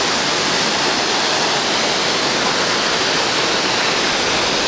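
A steady, loud roar of falling water, dense and unbroken, like standing close to a large waterfall; the Quetzalapan waterfall, with a 100-metre free drop.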